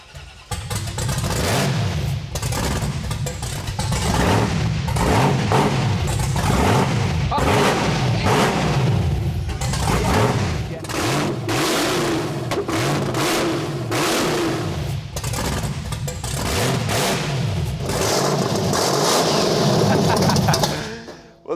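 A Chevy S-10 truck's supercharged 355 V8 running loud and rough, with repeated hard revs rising and falling over a choppy idle, under occasional voices.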